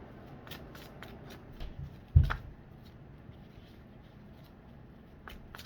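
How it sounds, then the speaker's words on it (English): A deck of tarot cards shuffled by hand, close up, with quick soft riffles and flicks and one sharper tap partway through, and no talk. "Let me shuffle some more, then I'll move over to the travel deck."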